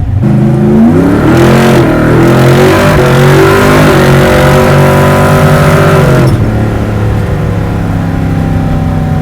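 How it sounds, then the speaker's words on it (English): A 605ci HEMI big-block Plymouth Roadrunner making about 1,000 hp accelerates hard, a loud deep engine roar climbing in pitch through the revs before easing off and settling into a lower drone. "That's such a different kind of acceleration than the modern"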